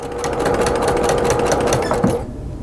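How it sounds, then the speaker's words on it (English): A sewing machine stitches slowly through a quilted table runner, a steady close, even mechanical chatter running without a break until it stops near the end. "I tend to sew a little bit slower when I'm doing something like this"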